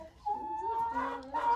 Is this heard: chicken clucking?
yes